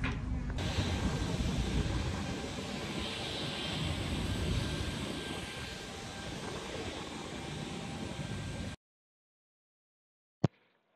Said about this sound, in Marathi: फायनली लँडिंग टू गॉथेनबर्ग आणि अशा प्रकारे लँडिंग झालं